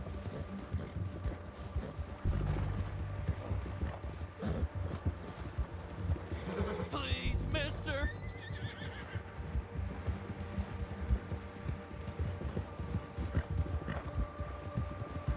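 Horse in Red Dead Redemption 2 whinnying loudly midway, with clip-clop hooves and game ambience around it, plus a brief spoken plea.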